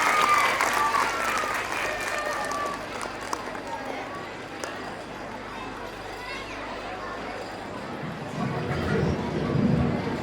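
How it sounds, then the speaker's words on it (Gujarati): Loud, sustained applause from an audience at a school annual function, filling the whole stretch with dense clapping that swells again near the end. "તો પછી એકવાર જોરદાર તાળીઓ થઈ જાય"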